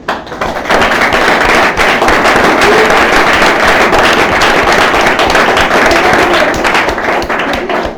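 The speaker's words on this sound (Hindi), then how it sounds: "अपने लिए जोरदार ताली बजाइए" A large audience at a training session claps loudly for itself, a dense, roaring wall of applause that builds within the first second and stays intense and sustained for about seven seconds before fading at the end.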